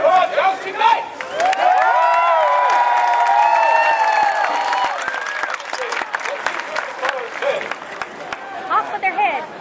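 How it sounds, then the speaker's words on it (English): Festival crowd at a Renaissance fair applauding and cheering for jousting knights, with whoops and shouts over dense clapping, while a voice talks and calls out through it. "Looking for the cheer for our jousting knights!"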